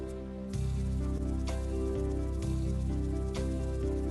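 An electronic keyboard plays a basic rhythm pattern with the altar style switched on. Steady, full chords and bass notes change every second or so over a repeating beat, with no talking over it.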